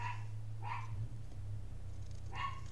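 A dog barks indoors, two or three distinct barks close by with a quiet pause between, over a constant low hum.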